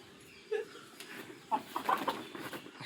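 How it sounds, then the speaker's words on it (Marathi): Village rooster clucking in short, loud bursts while held in someone's hands outdoors, a few close squawks spaced through the moment with some background murmur. "कोंबडा सुटतोय."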